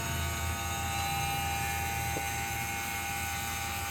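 A vacuum pump runs steadily while evacuating the AC system of a Chevy Cruze during a compressor replacement, a constant droning hum with a faint buzz and one brief click partway through.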